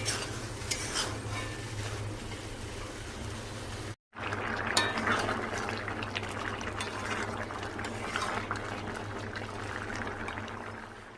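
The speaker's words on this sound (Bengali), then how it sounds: "সব কিছু মশলা দিয়ে কাবলি ছোলাটা আগে কষিয়ে নিচ্ছি।" Kabuli chickpeas being sautéed with spices in a pan give a steady close sizzle and bubbling hiss, with a low hum underneath and one brief cut partway through.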